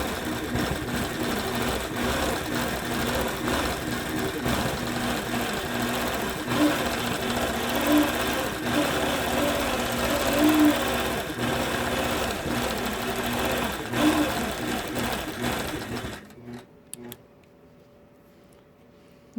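Sewing machine quilting a baby quilt, running in a steady fast mechanical chatter with rhythmic needle ticks for about sixteen seconds, then stopping abruptly into near silence.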